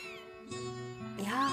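A small black cat meows in a yard, two drawn-out, rising-and-falling calls heard close and fairly soft, with no talking.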